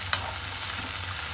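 Ginger garlic paste frying in a pan for dhaba-style egg bhurji, a brief burst of sizzle with quick stirring scrapes, close and fairly loud.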